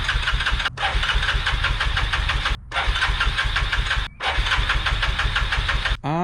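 A small engine with the choke set cranks and runs loudly and close, with a steady knocking idle broken by three brief cutouts before it picks back up.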